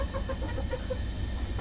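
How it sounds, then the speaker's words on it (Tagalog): Roosters clucking in short, repeated pulses at close range over a low steady background hum. "Yan yung dalawa nating matapang na manok."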